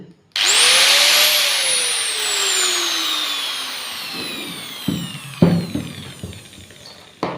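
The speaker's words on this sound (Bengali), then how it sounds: "কেবেলটা চেঞ্জ করার কারণে আমার এটা এখন মেশিন রানিং হয়ে গেছে" A 4-inch angle grinder with a newly replaced cable spins up to a loud high whine that slowly winds down, then a few knocks and clatters as it is handled, close up.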